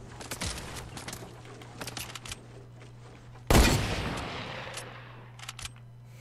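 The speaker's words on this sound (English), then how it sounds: "Who's shooting at me?" Rapid bursts of gunfire in the video game Fortnite, with scattered shots up close followed by a loud blast that rings out and fades, then a few more distant shots.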